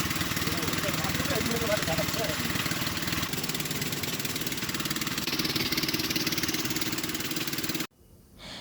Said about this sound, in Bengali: নৌকা চলতেছে আস্তে আস্তে।